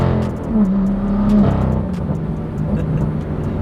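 A BMW M2 F87 with the N55 engine revs up close and loud, one sustained throttle blip followed by an idling rumble, with no voices.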